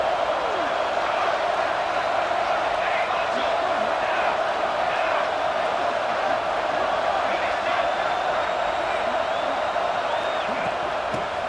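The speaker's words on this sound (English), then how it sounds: "this home crowd is fired up and ready to make a difference" Home crowd at a college football game, a dense steady roar of cheering and shouting that fills the whole stretch evenly without pause.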